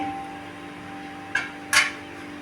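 Two short clinks of a plate set down on a metal stand inside a pot of water, one soft and one louder, over a steady low hum in a quiet kitchen.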